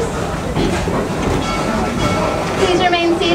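The Serengeti Express train at Busch Gardens Tampa rolls toward Nairobi station, a steady rumbling ride noise with faint squeals near the end, loud and close under a spoken announcement.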